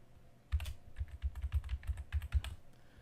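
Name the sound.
typing a word on a computer keyboard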